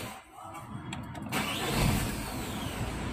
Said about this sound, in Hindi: गाड़ी को एक बार स्टार्ट करता हूँ